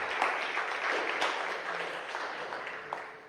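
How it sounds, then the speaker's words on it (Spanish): Congregation in a church clapping hands as an offering of praise, a continuous mid-level patter of many hands without clear rhythm and no talking. "Dale una ofrenda de palmas a Jesús"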